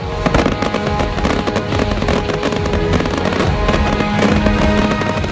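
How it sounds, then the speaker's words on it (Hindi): Dense, continuous Holi festival fireworks crackle and pop loudly, many bursts overlapping into a steady roar with no pauses. "आसमान में रंगों की आतिशबाजी"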